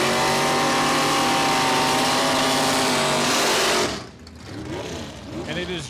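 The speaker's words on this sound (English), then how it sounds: "Very even race up towards the top end." Drag racing cars at a bracket race accelerate down the strip at Saskatchewan International Raceway, a loud, sustained engine roar that drops away after a few seconds, leaving fainter distant sounds and a commentator talking.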